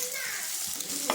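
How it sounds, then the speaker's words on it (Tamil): Egg scrambles and fries in a pan with a steady close sizzle, broken by a brief scrape of a utensil stirring it. "கொஞ்சம் ஃபஸ்ட்டு வந்துட்டு எக்கை ஸ்க்ராம்பிள் பண்ணி எடுத்துக்கலாம்"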